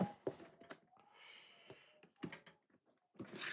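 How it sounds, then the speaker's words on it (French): Small strip of adhesive tape is peeled off a Beast Kingdom Spider-Man collector figure box, with a soft sticky tearing stretch between faint clicks and handling taps, quiet and close. "Je vais enlever le petit scotch là."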